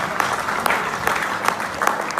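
Audience applause at a network marketing seminar: brief, steady clapping from a crowd in an indoor hall, fairly loud and continuous with a few sharper claps standing out.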